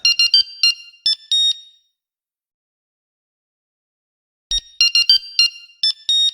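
Electronic mobile phone ringtone used as a sound effect in a French radio jingle: a bright, loud, beeping melodic tune that plays, stops for nearly three seconds of silence, then plays again alone.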